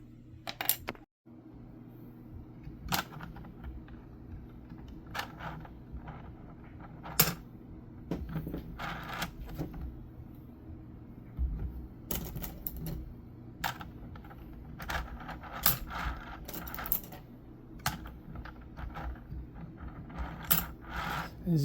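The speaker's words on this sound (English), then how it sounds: "Now we can start loading the bolts manually one at a time." Crossbow bolts loaded one at a time into a 3D printed plastic magazine, a long run of sparse, crisp clicks and knocks at irregular intervals, close and quiet over a faint low background hum.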